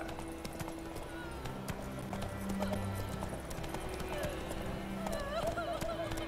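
Horse hooves clip-clop steadily at a gallop in The Witcher 3, with occasional neighs and snorts over a bed of ambient game music and background voices.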